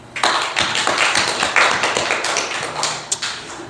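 A church congregation bursts into applause at a fourth-anniversary service, dense overlapping hand claps rising quickly and sustained at steady loudness for several seconds without speech.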